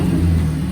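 A 2007 Mazdaspeed 6 engine revs loudly nearby with a deep, booming low rumble that stays sustained throughout the short burst.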